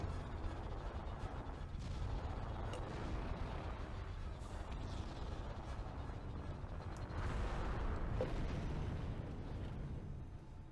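Continuous blaster fire and explosions rumble as a ship is shot section by section in Star Wars: Bounty Hunter, a dense, loud, unbroken barrage of booms and bursts lasting throughout.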